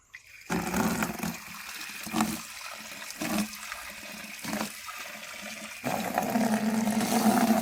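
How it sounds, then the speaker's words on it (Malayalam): Water gushes steadily into a 20-litre sprayer tank to mix pesticide for pepper plants, a continuous rushing fill that pauses briefly and then resumes fuller and louder near the end. "ഇനി വെള്ളം ഒഴിച്ച് മിക്സ് ചെയ്യുന്നു."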